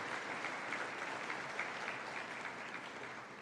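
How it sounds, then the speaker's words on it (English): Guests at a manufacturers' association awards dinner give steady, even applause that tapers slightly toward the end, sounding somewhat distant. "I wanted to give the Secretariat of the TTMA a round of applause for that"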